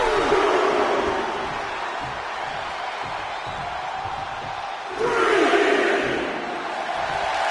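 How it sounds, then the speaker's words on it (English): Loud, continuous roar of a virtual arena crowd in the WWE 2K24 wrestling game as Stone Cold Steve Austin works them up, steady cheering that swells sharply midway, then eases slightly. "Stone Cold Steve Austin getting the crowd riled up right now"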